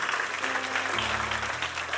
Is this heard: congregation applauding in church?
yes